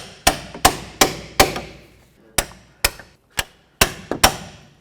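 Close, sharp metal hammer strikes on the front lower ball joint of a 2003-08 Toyota Matrix, nine separate bonks in uneven pairs and singles, each ringing briefly, with no talk.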